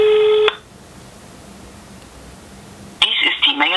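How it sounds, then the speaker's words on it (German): Telephone call on a handset: a brief electronic dial tone cuts off, a quiet gap follows, and a loud tone-like ringing signal begins near the end. "Aber dann rufe ich jetzt erstmal die nächste an. Und zwar die Leonie."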